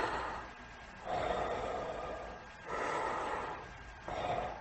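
Darth Vader's mechanical respirator breathing from Star Wars, heard alone and close: slow alternating inhales and exhales, three full hissing cycles in a steady, heavy rhythm.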